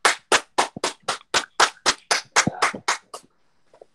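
Classroom applause for a student group: about a dozen crisp, evenly spaced claps ringing out close by over roughly three seconds, then a faint trailing sound.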